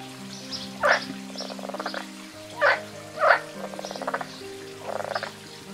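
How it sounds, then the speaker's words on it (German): Frog croaking loudly in a summer garden, several bursts of calls spaced irregularly over a steady background of insect or bird hum. "unser Hausfrosch sucht lautstark eine Partnerin"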